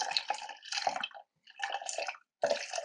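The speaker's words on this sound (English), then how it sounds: "Once that's done, you pour in the remaining water" Water poured over coffee grounds in a pour-over brewer during coffee brewing, heard as close, splashy trickling bursts in three pours with brief silent gaps between them.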